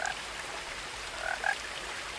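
A frog croaks in the game What Remains of Edith Finch, a few short, faint chirping calls over a soft outdoor hiss, one near the start and a small cluster toward the end.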